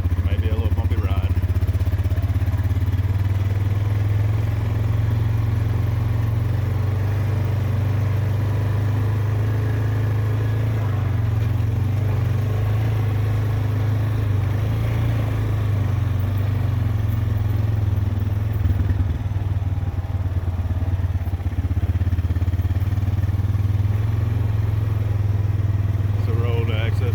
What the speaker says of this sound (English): Probably a little loud, but I'm gonna try to talk once I stop. I'll be able to turn the four-wheeler off.